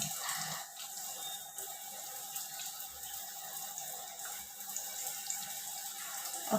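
Tap water runs steadily into a sink for washing the face, a soft continuous hiss and splash with faint small drips, fairly quiet and unbroken throughout.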